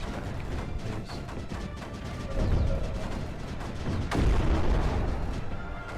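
Cannons fire continuously in the strategy game Creeper World 4, a dense, steady barrage of booms and bursts with heavier swells partway through.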